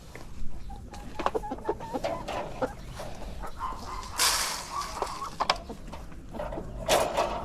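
A rooster clucks in short, scattered calls before being fed, with a soft farmyard background. Near the end it gives a few louder, sharper squawks.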